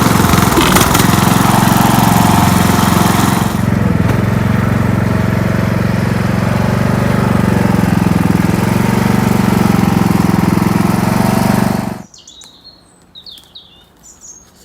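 A riding lawn mower engine drones loudly and steadily on a farm while cutting grass, then cuts off abruptly near the end, leaving birds chirping faintly in the quiet.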